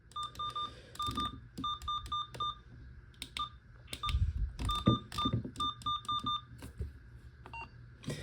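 Short electronic key beeps from a Uniden SDS100 scanner in quick bursts, some single and some in rapid runs of three to five, clear and close, with faint handling noise between them.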